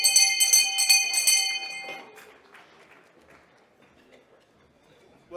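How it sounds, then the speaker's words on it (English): A hand bell rung rapidly at a mining club luncheon auction, bright and close, with several clangs that then decay while a voice talks faintly underneath. "Well, to paraphrase Paul Hogan, that's a real bell."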